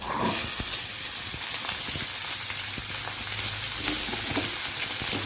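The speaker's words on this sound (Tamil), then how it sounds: "பட்டாணி கேரட் உருளைக்கிழங்கு எண்ணெயிலே நல்லா வதங்கட்டும்" Peas, carrot and potato sizzle in hot oil for a vegetable kurma, a steady close frying hiss with small crackles and pops throughout, no voices.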